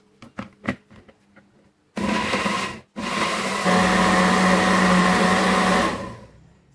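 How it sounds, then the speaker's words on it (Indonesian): A blender grinds garlic, shallots, green chili and tomato with a little water for Indonesian green sambal, roaring loud and steady for about four seconds after a short burst, following a few clicks and knocks. "masukkan ke dalam wadah blender dan blend dengan diberi sedikit air"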